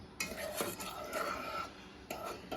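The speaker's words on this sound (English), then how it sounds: "I just keep stirring it because I don't want it to burn" Peanut butter fudge stirred in a pot, a soft, steady scraping and swishing of a spoon through the thick mixture with a couple of light knocks against the pot, close and quiet.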